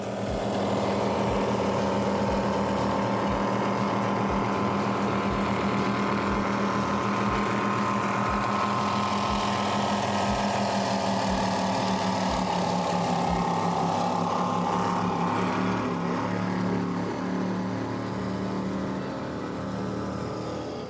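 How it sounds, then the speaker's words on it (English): Twin Mercury Racing 525 engines drive a 36-foot Cigarette Gladiator powerboat at speed across Biscayne Bay during a Key West poker run, a loud steady droning roar with a rhythmic thump of hull slapping water. "Let's listen to these Mercury Racing 525s."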